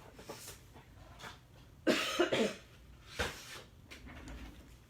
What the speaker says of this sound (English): I haven't had a coughing fit all day